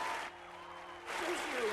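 Studio audience applause on The Eve Show talk show rises and dips, briefly thinning in the middle before swelling again, while a voice speaks over the clapping.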